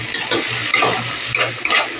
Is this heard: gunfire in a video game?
no